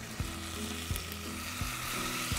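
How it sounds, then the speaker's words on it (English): Rib fillet pieces sizzle steadily in a hot pan, with a few soft knocks as pieces are stirred or shifted, close and clear with no talking. "Nice sizzle on that's what we want to hear."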